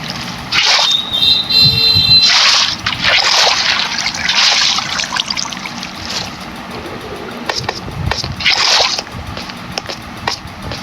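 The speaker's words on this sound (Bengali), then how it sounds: "জল পড়ে যাচ্ছে তো।" Water flowing and splashing in Minecraft survival play while building an XP farm, loud trickling and gushing bursts that swell and fade over the clip.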